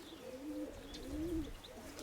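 Young pigeons give soft, low warbling coos in short rolling phrases, close by, with faint chirps in the background.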